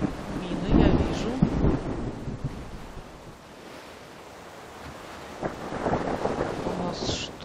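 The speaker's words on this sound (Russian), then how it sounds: "У нас шторм." Stormy sea at night in the pirate sailing game The Pirate: Caribbean Hunt, with surging waves, wind and low thunder rumbles swelling and fading, loud and continuous.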